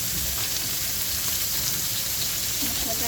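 Fish spice masala fries hard in a pan with a loud, dense, continuous sizzle and crackle that stays steady the whole time, heard up close with no voices.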